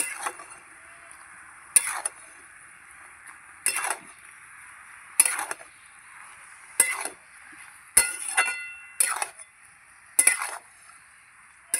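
Spinach and vegetables stirred in a covered pot, with about eight separate bursts of clinking and scraping as the utensil works through the greens, each followed by a soft quiet hiss.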